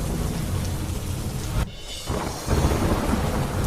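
Heavy rain pours steadily in the Nilgiris, Tamil Nadu, with deep rolling thunder rumbling through the downpour, which briefly thins before surging back loud.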